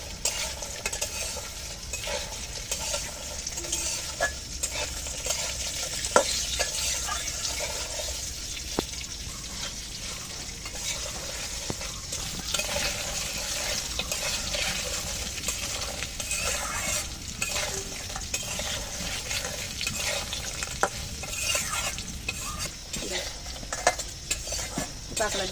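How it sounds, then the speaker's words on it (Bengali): Crab pieces and potatoes frying in a pan for a Bengali crab curry, a steady bright sizzle broken by scraping, clattering stirs of a spatula against the pan, close and continuous. "আলু দিয়ে একটু ভালো করে ভেজে নেব"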